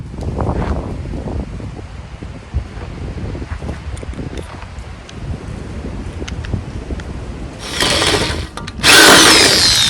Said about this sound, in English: Now for the step bit, 3/4 inch holes.